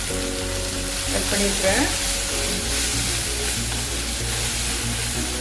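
Finely chopped brinjal sizzles and fries steadily in a hot pan, with a continuous close crackle under a voice speaking.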